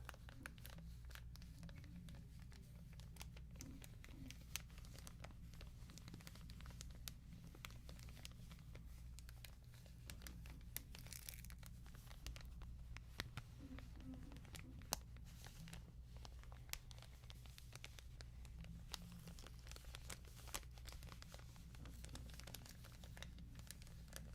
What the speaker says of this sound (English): And I like crinkly noises